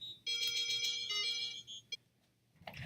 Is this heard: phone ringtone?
yes